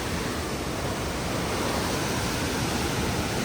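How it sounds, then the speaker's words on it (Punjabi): Rushing river water in the Sonamarg valley of Kashmir pours toward power turbines, a loud, steady broadband roar heard close, with no let-up throughout. "ਇਹ ਟਰਬਾਈਨਾਂ ਘਮਾਉਣ ਵਾਸਤੇ ਪਾਣੀ ਜਾ ਰਿਹਾ"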